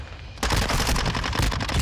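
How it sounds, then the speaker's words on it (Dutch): Rapid submachine gun bursts in Call of Duty: Modern Warfare 2 on the Shipment map, loud, dense and continuous after a brief quieter lead-in, with no talk. "submachine gun of niet, we knallen gewoon door"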